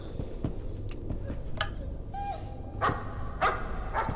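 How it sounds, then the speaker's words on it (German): A dog in the Layers of Fear horror video game barks and yips a few times against a low, murky ambient background, moderately loud, with a faint whimper between barks. "Oh, ein Hund. Das ist unser Hund."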